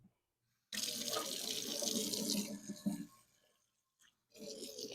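A faucet runs hard for about two seconds, water splashing into a cast iron skillet, then trails off; a second short burst of running water follows.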